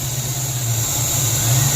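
A 1994 convertible's engine idles roughly after starting, with distributor timing set around 30 degrees, a loud, close, steady hum whose low throb wavers unevenly throughout.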